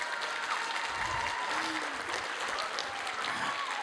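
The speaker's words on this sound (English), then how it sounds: "give those guys a round of applause again" Steady audience applause fills the room at a high school winter jazz concert, a dense, even wash of clapping that holds constant throughout with no talk over it.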